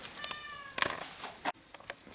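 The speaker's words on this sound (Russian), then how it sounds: "Все это время с нами был кот Франкенштейн" A cat meows a few times indoors during home renovation, short tonal cries over faint room noise and scattered clicks.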